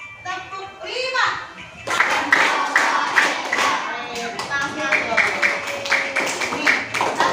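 Children in a classroom clap hands in rhythmic patterns as part of a counting clap game, the sharp claps close and loud over young voices chattering and calling out.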